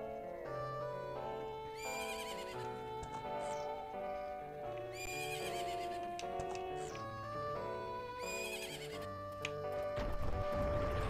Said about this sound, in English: Yes, that's my horse.